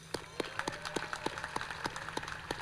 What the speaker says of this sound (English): I'd like to start off with a round of applause for all of our great graduates out here